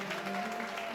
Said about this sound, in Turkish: Evet, şimdi güçlü alkışlarımızla devam ediyoruz